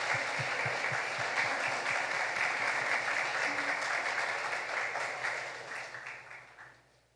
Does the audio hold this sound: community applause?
yes